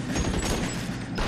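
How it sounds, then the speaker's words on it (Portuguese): Dense, continuous gunfire clatters loudly through a short stretch of L.A. Noire gameplay, shots fired accidentally in rapid succession with no pauses. "Eu tô atirando sem querer."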